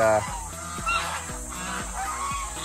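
Several geese honk repeatedly nearby, a rapid overlapping series of nasal calls.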